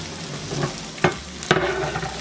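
Sizzling frying in a pan as diced carrot goes in for a chickpea stew, with two sharp crackling bursts of hot oil over a steady hiss and a stirring scrape.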